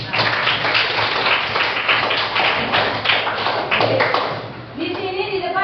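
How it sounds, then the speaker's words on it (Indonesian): Children in a classroom clap together in a busy, uneven burst of hand claps and taps with voices mixed in, the clapping fading near the end as chatter takes over. "tepuk tangan semua buat kita"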